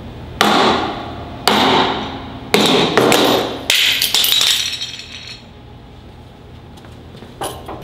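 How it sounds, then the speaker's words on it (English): Hammer striking a glass nylon fiber sheave on a sailing block, giving about five sharp, loud, ringing knocks in an irregular sequence, each fading quickly, followed by a quiet tail and a faint final tap. "You could hit this with a hammer and it's not gonna chip."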